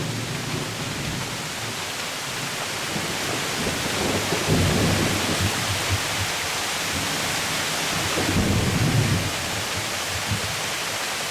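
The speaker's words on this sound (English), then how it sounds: "now it's raining and thundering, as you can hear" A heavy thunderstorm lashes down on a lake, steady dense rain hissing throughout with low rolling thunder swelling twice, heard from a balcony.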